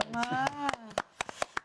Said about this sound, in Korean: 이렇게 우리 목회자가 이쯤에서 박수 한번 치고 넘어갑시다